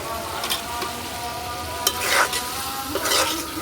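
Prawns sizzle steadily in a pan for a village-style prawn curry with potato and pui shak, with scraping stir strokes at intervals and a constant close, moderately loud fry underneath.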